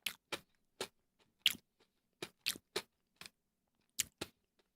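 A crunchy strawberry cream snack with little wafer pieces is chewed in a quiet room, giving about a dozen short, crisp crunches in an uneven rhythm, with brief silences between them.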